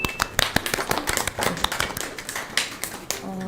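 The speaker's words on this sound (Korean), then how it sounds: "승리한 우리 선수들에게 큰 박수 부탁드릴게요." Applause for winning esports players, a dense patter of hand claps running steadily throughout at moderate loudness, with faint crowd murmur beneath.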